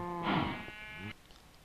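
A sheep bleats once in a Minecraft farm area, a single wavering, nasal call lasting about a second, close and fairly loud, with no talking.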